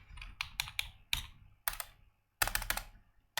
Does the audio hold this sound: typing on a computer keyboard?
yes